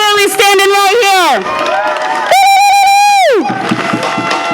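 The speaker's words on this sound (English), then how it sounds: "So let's give a big round of applause for Mary and Willie standing right here." A rally crowd cheers and applauds loudly, with high whoops and shouts rising and falling in two big swells over clapping and babble.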